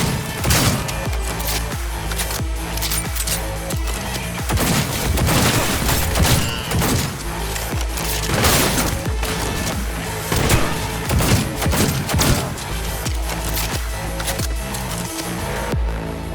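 Shootout gunfire in the video game Cyberpunk 2077: rapid, loud bursts of shots and heavy thumps crowd together, stopping briefly and resuming over a low music bed, with no talk.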